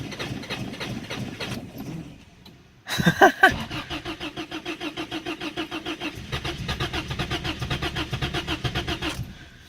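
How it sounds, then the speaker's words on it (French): Car engine being cranked and started with the gas pedal held down after priming the fuel pump on a car that has not run in a long time; a burst of cranking gives way to a steady rhythmic engine pulse. "Il part pas si je pèse pas sa pédale à gaz."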